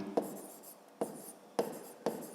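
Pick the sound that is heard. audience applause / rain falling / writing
writing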